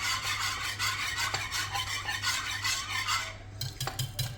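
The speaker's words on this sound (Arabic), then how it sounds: "غادي ندير فيها الحليب وغادي ندير فيها الفاني. صافي نخلطوها مزيان" Milk and vanilla stirred together in a pot, with a steady scraping swish of the utensil against the metal running throughout, close and continuous, with a few light knocks near the end.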